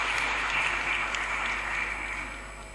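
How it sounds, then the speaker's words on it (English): Audience applauding at a women's day event in Lahore as a panel moderator is welcomed on stage, a dense steady clatter of many hands that tapers off toward the end. "please give a huge round of applause to Ms."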